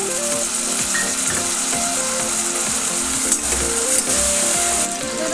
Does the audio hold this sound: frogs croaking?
no